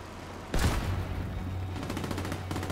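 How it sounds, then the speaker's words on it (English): Heavy gunfire from a big gun in the video game The Division 2 starts with a loud sharp blast, then continues as a sustained rumbling barrage with rapid repeated shots. A steady low hum runs underneath. "I hear that big gun going."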